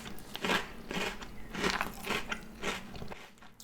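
Färsking Linspops cocoa lentil cereal is crunched close to the mic, with about six loud, crackly chewing bites coming in a steady rhythm and no talking.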